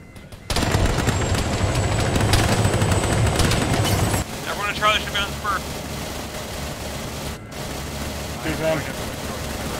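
Heavy gunfire in the ShackTac video game: sustained rapid machine-gun bursts over a droning aircraft or helicopter engine that then drops to a lower rumble, with a few voices heard faintly over the radio.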